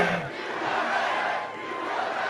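Large crowd at a political rally in Janesville, Wisconsin cheering and roaring, a broad steady wash of voices filling the whole moment without a break.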